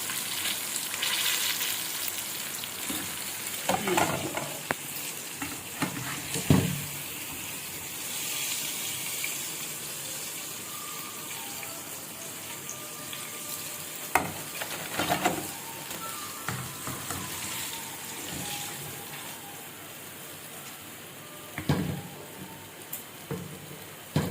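KFC-style chicken wings frying in oil in a pan, a soft continuous crackling sizzle at moderate distance with a few sharper pops and bursts scattered through, no voices.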